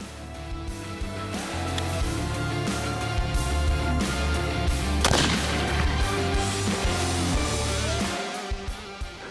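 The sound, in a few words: rifle gunshot at a red hartebeest during a hunt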